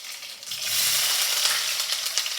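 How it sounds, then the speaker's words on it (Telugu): Curry leaves, cumin and chillies tempering for a bottle gourd curry crackle and sizzle loudly in hot oil, a steady close frying hiss with sharp pops, no voices. "ఇప్పుడు పోపు పెట్టుకుంటున్నాం"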